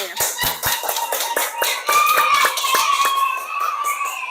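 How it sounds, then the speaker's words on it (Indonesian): A primary school class claps for a student group, with several children's sharp, uneven hand claps close by, some individual slaps standing out amid overlapping applause and faint young voices. "Beri tepuk tangan"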